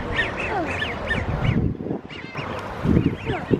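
Ducks quacking at a pond, repeated loud, close calls in irregular bursts, with honk-like notes and a little background noise.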